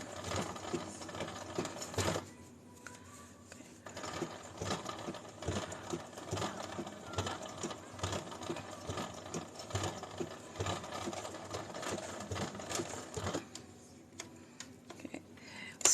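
Sewing machine stitching a journal cover in short, slow bursts and steady runs of rapid needle chatter, fairly close but quiet, with faint room noise between passes.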